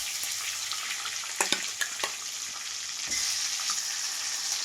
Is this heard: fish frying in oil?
yes